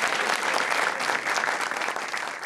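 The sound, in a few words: audience applause for the musicians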